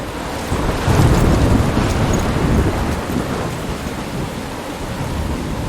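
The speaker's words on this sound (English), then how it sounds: "I'm trapped in a storm?" Thunderstorm in the Life is Strange video game: a heavy, loud rumble of thunder swells early and slowly rolls off, with steady rain and wind hissing underneath throughout.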